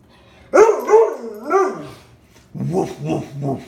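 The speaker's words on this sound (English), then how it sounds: "do you want to woof some more?" A Bernese Mountain Dog barks in a long, drawn-out howling bark, then a run of three shorter rhythmic barks follows, close and loud.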